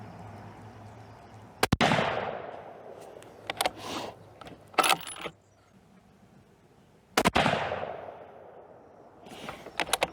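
A Savage 2 XP rifle in 6.5 Creedmoor fires two sharp, loud gunshots several seconds apart outdoors, each with a decaying echo, interspersed with clicks and clacks of the bolt being worked between shots.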